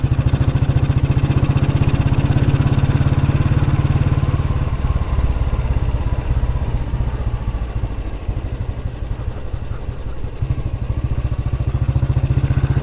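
A small motorcycle engine runs steadily while being ridden, a loud, close, buzzing drone that eases slightly midway and then rises again. Nobody speaks.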